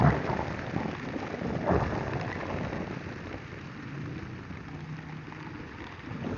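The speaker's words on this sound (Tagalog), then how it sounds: "Lakas kasi ng ulan eh." Heavy monsoon rain makes a constant broadband wash with a dull rumbling undertone, fairly close, with no clear voices.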